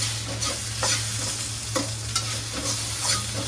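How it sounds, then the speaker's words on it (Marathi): Spice masala with garam masala and salt being roasted in a pan for chicken, a soft continuous sizzle under repeated rhythmic scraping and stirring strokes of a spoon. "मसाला चांगला आपण भाजून घेऊया"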